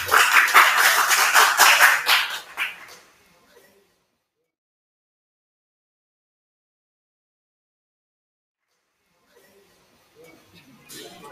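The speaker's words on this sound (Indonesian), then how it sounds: "beri aplaus untuk kelompok 1 ini" A classroom bursts into clapping for group 1, a dense round of applause from the students that lasts a few seconds and fades to silence. A little faint clapping and movement returns near the end.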